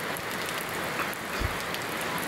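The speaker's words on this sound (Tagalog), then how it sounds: "Hindi natitila itong ulan na ito" Steady, dense rainfall pouring down and pattering on surfaces, a constant wash of heavy rain with no talking.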